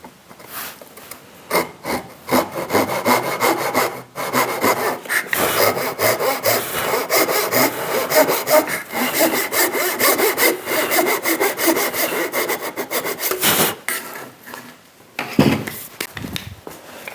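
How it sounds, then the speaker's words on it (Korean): Hand saw cutting diagonally through wood for traditional Korean joinery, close and loud: steady back-and-forth rasping strokes run for most of the stretch, with brief pauses near the start and end. "이 연기를 자르면서 갈 수는 없기 때문에 사선으로 톱질을 해야 합니다"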